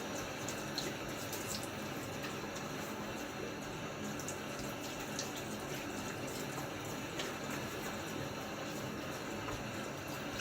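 Razor rinsed under a running tap, a steady, quiet hiss of flowing water with faint splashes throughout.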